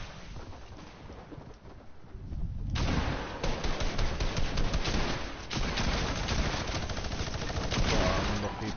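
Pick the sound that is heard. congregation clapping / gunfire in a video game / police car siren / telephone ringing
gunfire in a video game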